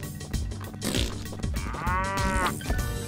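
A cow moos in Neighbours from Hell 2: one long, drawn-out bovine moo rises and holds at mid-length, backed by steady game music and a few short effect sounds, with no talk.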